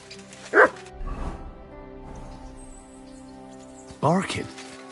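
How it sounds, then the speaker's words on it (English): A dog barks twice, short sharp yelps spaced several seconds apart over a steady low game soundtrack in Kingdom Come Deliverance II, set in medieval Bohemia. "Barking."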